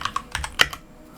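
Keystrokes on a computer keyboard as a terminal command is typed on Parrot OS, about six or seven distinct clicks over the first second, then quiet.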